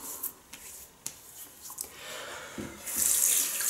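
Water is splashed onto the face during a wet shave, a few quick splashes and drips near a running sink, ending in a louder rush of tap water, close by with no talking.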